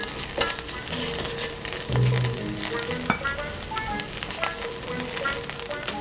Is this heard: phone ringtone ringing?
no